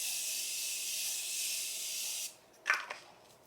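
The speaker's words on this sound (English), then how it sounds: "Apply a little bit of setting spray here real quick. I'm using the Morphe one" Morphe makeup setting spray hisses out in one steady, close mist burst lasting about two seconds, followed by a faint short rustle.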